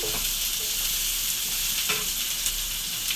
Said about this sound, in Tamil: நல்லா வெங்காயம் வதங்கட்டப்பா